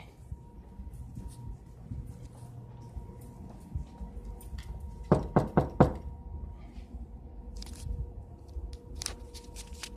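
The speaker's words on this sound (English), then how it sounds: "Well, I just knocked on security's door twice." Knuckles rap twice in quick clusters on a security office door, sharp close knocks standing out over a faint, low room background with no talk.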